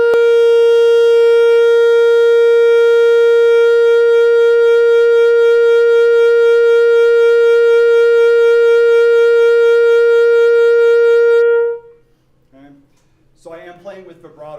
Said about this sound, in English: So I am playing with vibrato, but it's not crazy wide.